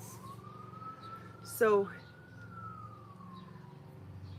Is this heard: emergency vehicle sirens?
yes